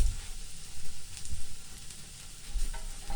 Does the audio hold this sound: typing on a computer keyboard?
no